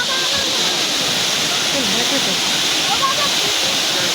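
A waterfall in Purulia roars as a steady, dense rush of falling water, with people talking over it nearby.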